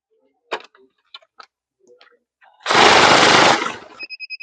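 Digital money counting machine running through banknotes during a fake-note check, a few clicks and taps before a loud, steady whirring riffle lasting about a second, then two electronic beeps repeating.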